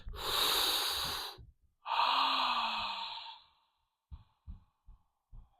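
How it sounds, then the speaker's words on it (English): A long, loud deep inhale followed by a slow, drawn-out exhale, breathy and close, then a few soft short thumps or taps as it settles. "Typical deep breath."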